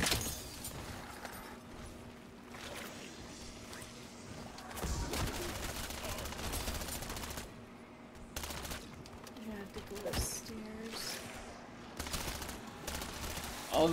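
Pistol gunfire in Call of Duty: Modern Warfare III Zombies, with repeated shots amid busy game noise and occasional voices talking over the action.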